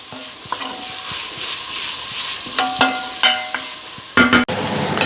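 Meat sizzling and frying in a pan with onions, occasional stirring scrapes and clinks, steady crackle throughout, close up, no voices.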